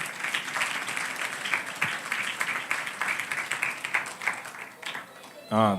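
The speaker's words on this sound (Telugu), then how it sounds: "అందరూ ఒకసారి చప్పట్లు కొట్టండి అమ్మ" An audience at a Telugu Bible quiz claps together after a correct answer. The applause is a dense, sustained patter of many hands and ends abruptly with a brief tonal sound.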